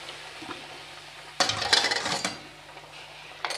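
Vegetable curry for Bengali neem jhol poured into a hot pan, a sudden burst of splashing, clattering and sizzling lasting about a second, then a quieter simmer with a short clink at the end.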